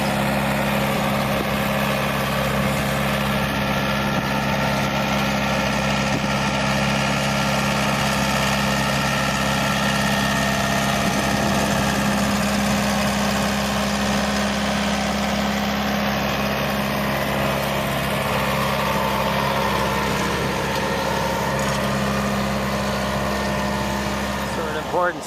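A vehicle engine idles with a steady, low drone while pulling a McGee rake across a newly built USGA sand golf green at North Shore Country Club in Glenview, Illinois, continuing unbroken throughout with voices faint beneath.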